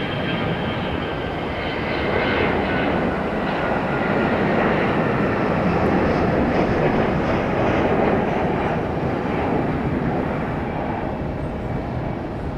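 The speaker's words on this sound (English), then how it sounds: "Got this Delta A321 jetting out of here." A Delta Airbus A321 jet takes off at Raleigh-Durham International, a loud, steady roar that swells through the middle and holds without any talking.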